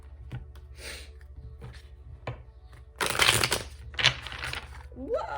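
Tarot cards being shuffled by hand, bursts of crisp papery riffling and rustling close up, louder in the second half, with quiet breaths and small handling sounds between.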